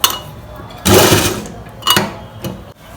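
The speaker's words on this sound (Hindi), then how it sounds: "अब हम इसी पे सिंपल इसकी सिलाई लगा देते हैं और टक्स भर देते हैं इसमें।" A sewing machine runs in short bursts while stitching tucks into a long gathered frock, each close whirring run stopping and restarting several times.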